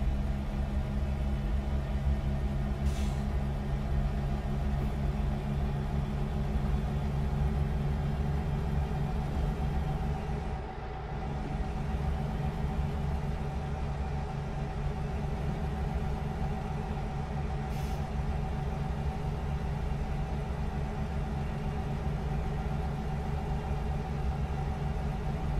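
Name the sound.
truck engine from a video game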